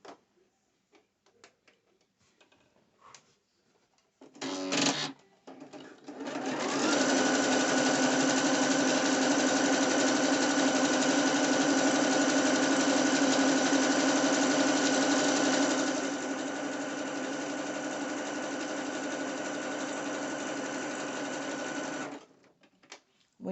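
A sewing machine zigzag-stitching a band onto a two-piece dance outfit runs in one long steady buzzing whir for about fifteen seconds, close and loud, after a few short starts, then stops.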